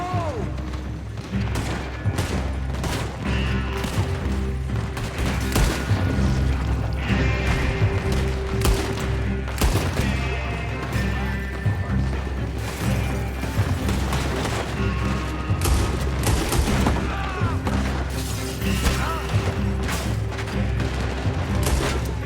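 Dense gunfire rattles through a shootout in Red Dead Redemption 2 at an oil works, loud repeated shots and booms layered over game music and mechanical clatter for the whole stretch.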